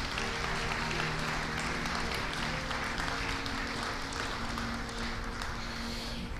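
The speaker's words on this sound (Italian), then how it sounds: "Per loro vi chiedo un applauso affettuoso" A seated audience at an evening event gives warm, sustained applause, a dense continuous clapping that holds steady for several seconds with faint tonal music underneath.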